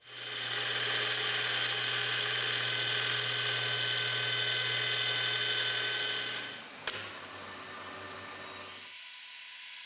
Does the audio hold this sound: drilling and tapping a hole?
yes